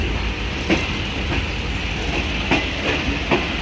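A new rake of rail cars runs along the track through the Potohar countryside in the morning, a loud steady rumble broken by rhythmic clickety-clack beats from the wheels.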